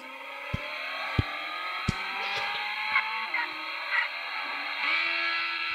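A car engine in a driving video game, holding a steady whining drone with shifting pitch, punctuated by a few sharp clicks early on and small bumps later, moderately loud with no talk.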